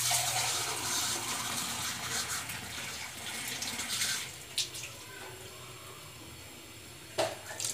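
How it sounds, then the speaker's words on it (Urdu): Tap water running into a cooking pot for chana pulao, a continuous pouring rush that fades partway through, followed by quieter clinks and a short splash near the end. "تو ہم اس میں پانی شامل کریں گے"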